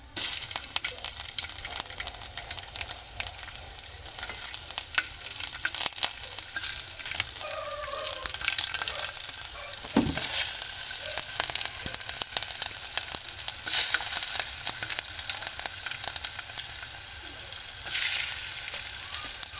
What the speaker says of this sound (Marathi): आपलं तेल तापलं आहे दोन चमचे मी तेल टाकलं आहे हे पहा तर त्याच्यामध्ये मी लसूण पाकळ्या टाकतो